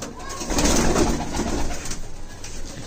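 Red-eyed Kasoori golden pigeons coo nearby in a continuous low, rolling murmur, with faint talk mixed in the background.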